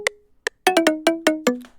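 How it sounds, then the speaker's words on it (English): Synthesizer layer of volcano-like tones: a few sharp bright stabs, then a run of about six evenly spaced decaying hits with low sustained pitches, dry and upfront with no voices. "These are also like volcano type sounds."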